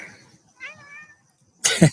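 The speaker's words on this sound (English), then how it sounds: "This is the cat that we found out in the garage." A cat found in a garage gives a short, rising meow, close and fairly faint, followed by a louder burst of noise.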